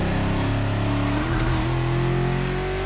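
A luxury hypercar with four-figure horsepower revs hard in the racing game The Crew Motorfest, a loud, steady engine roar that rises in pitch as it accelerates, heard alone without speech.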